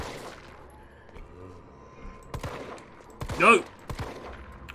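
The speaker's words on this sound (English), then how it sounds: "stop panic shooting" Panicked gunfire in Resident Evil 3 in first-person mode: a few separate shots crack out, one louder burst near the end, under a player's exclamation.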